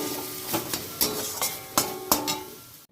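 A spoon scrapes and stirs a thick banana-stem curry in a pan in a handful of distinct, evenly spaced strokes, close and clear over a low background sizzle.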